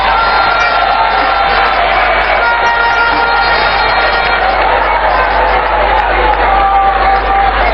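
A large audience claps and cheers loudly and continuously, a dense crowd roar with shouts and whoops, no single voice standing out.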